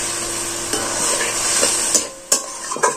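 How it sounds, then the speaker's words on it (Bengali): Water poured into a hot pan of cauliflower gives a bright hiss and sizzle, with scraping stirring and a few sharp clinks of a utensil against the pan, close and alone without talk. "এবার আমি এটা অল্প জল দিয়ে সেদ্ধ করতে দিয়ে দেব"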